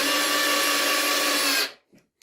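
Kaltmann K-WZP18V 18 V cordless screwdriver with clutch driving a screw: a loud, steady whirring motor drone for about a second and a half, then it stops abruptly with only brief faint clicks after.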